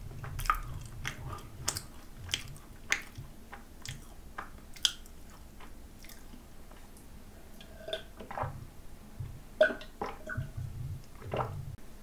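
Macarons being chewed close to the mic during a mukbang, including a fat cheese, wine and fig macaron, with soft squishy bites and crisp crackles scattered irregularly through steady mouth sounds, with no one talking.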